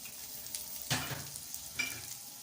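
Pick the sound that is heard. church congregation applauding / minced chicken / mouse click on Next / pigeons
minced chicken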